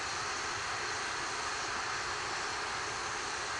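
Distant Atlas V rocket powered by an RD-180 engine with solid rocket boosters climbing during ascent, a steady, even broadband roar that holds without break, faint and far off.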